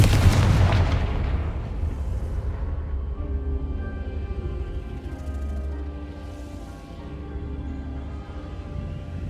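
Confringo explosive blast spell in Hogwarts Legacy: a loud, sharp burst at the start rolling into a long low rumble and tonal magical hum that lingers and slowly fades.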